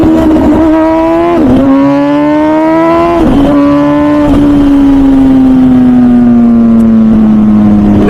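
A Ducati or MV Agusta sport motorcycle roars loud and close as it accelerates hard. The engine pitch climbs through several gear changes, with short dips between shifts, then holds a long sustained pull.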